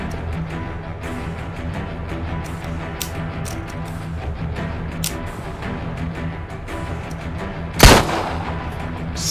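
A single sharp gunshot cracks out near the end over a steady low ambient game soundscape in the video game Empire of Sin, one loud report with a short tail.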